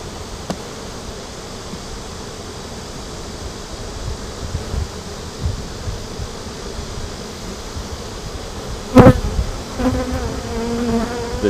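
Honeybee colony buzzing steadily during a hive inspection, a dense close hum with a brief sharp thump and a few louder passing bees near the end.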